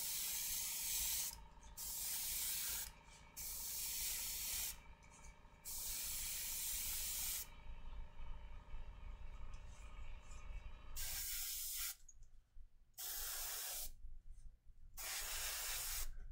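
An airbrush sprays paint onto a hobby model to clean up orange overspray near the pumpkins, in a run of soft close hissing bursts separated by short silent pauses.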